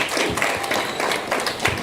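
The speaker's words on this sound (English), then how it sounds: "give a big round of applause to Mr." Brief applause from an audience at a faculty awards ceremony, a steady patter of many hands clapping at moderate volume for under two seconds.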